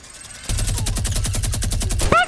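Rapid automatic gunfire in the video game Fortnite rattles off in a steady burst of close, loud shots lasting nearly two seconds, followed by a brief tonal game sound.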